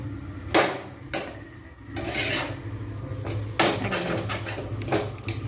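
Butter melting in a pan while a spoon stirs it steadily, clattering scrapes and knocks of metal against the pan in irregular bursts, close and fairly loud.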